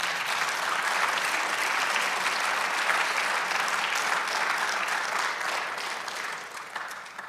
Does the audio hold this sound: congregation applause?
yes